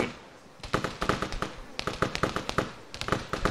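Rapid bursts of video game gunfire crackle in irregular volleys, loud and close, with sharp repeated shots spread through a radiation zone firefight in Escape from Tarkov-style combat.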